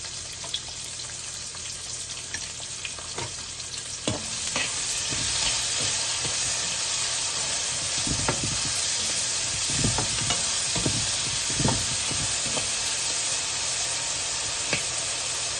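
Onions sautéing in oil with mustard seeds, garlic, fennel, cumin and dried red chillies, a steady loud sizzle that swells after a few seconds, punctuated by repeated scraping stir strokes.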